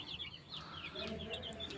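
Small chicks, about forty or fifty of them, peep in high, thin chirps scattered across a short stretch, close by and fairly faint, with a low background murmur underneath.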